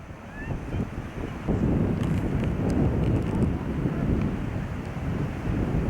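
Strong wind blows outdoors on the Nova Scotia coast at Hopewell, a loud, continuous rumbling gust buffeting the microphone with a faint rushing layer above, with no talk.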